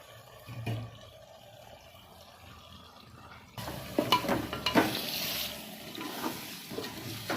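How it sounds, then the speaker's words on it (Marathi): Garlic paste sautéed in a pan for prawn biryani, a soft sizzle with stirring scrapes and taps, quiet at first and then louder and busier once the paste goes in. "लसूण पेस्ट टाकली का परतून परतून घेऊया"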